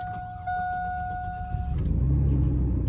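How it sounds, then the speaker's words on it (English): A truck engine starts: a tonal warning chime and a click lead into a cranking whir, and then the engine catches and settles into a loud, rough rumble close by. "Let's start it up."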